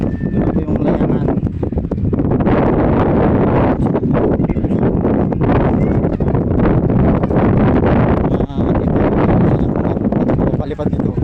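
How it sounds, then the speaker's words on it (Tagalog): Strong, steady wind buffets the microphone outdoors while kites are flown, a constant loud roar with gusty rustling throughout and bursts of talk mixed in. "Sobrang lakas po ng hangin."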